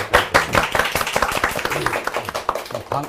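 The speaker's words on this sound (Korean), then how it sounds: "일단 박수로 환영을 좀 해주시죠." A small studio audience on a Korean talk program claps to welcome a guest, Democratic United Party leader Lee Hae-chan, a close, uneven patter of individual hand claps for a few seconds.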